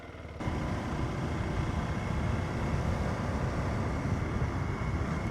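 A TVS Apache RTX motorcycle engine catches after a brief pause and settles into a steady, close, throbbing idle with no breaks, heard alone without talk.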